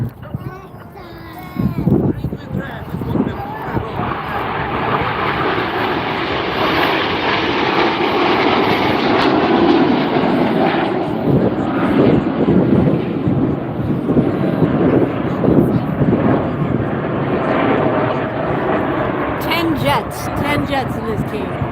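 Italian Frecce Tricolori jet team of ten aircraft performing at the Rochester Airport air show, a loud continuous jet roar that swells and sustains throughout, with crowd and voices faintly beneath.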